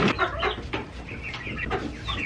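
Chickens on a small homestead cluck close by in quick, uneven bursts of short calls, with no one talking.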